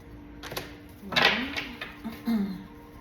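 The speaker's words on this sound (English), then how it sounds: "Just the shuffling." Short crisp riffling bursts of matte-finish oracle cards being shuffled close by, a couple of quick flutters with soft handling noise between.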